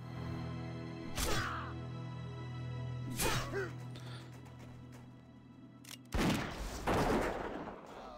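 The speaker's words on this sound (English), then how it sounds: "I love shooting gnomes in the back, bro." A hunter's gun fires at gnomes in World of Warcraft Classic Hardcore: three sharp, loud shots spaced a couple of seconds apart, the last with a longer crackling tail, over a steady low game hum.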